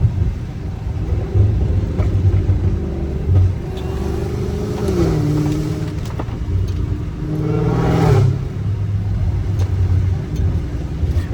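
An 850 HP Dodge Challenger Hellcat Redeye drives in the rain from inside the cabin, its engine rumbling steadily and rising in pitch through two clear revving surges over wet road noise.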